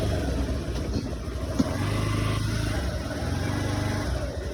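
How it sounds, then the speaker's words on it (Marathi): A motorbike pulls away and rides on with a dog aboard as a passenger, giving a steady mid-pitched engine drone at moderate distance with a brief knock partway through. "कुकी पहिल्यांदा गाडी बसलेली आहे बाईकवर."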